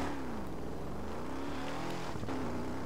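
A Camaro in the racing game Burnout Paradise, its engine droning and revving steadily in a continuous loud tone that dips and rises again, with game noise behind it.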